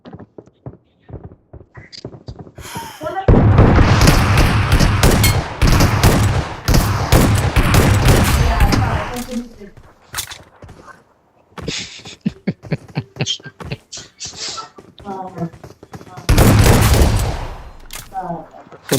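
Rapid bursts of gunfire from a video game shootout, loud and close, with dense volleys in the first half, a stretch of sparser single shots and clicks, then another heavy burst near the end.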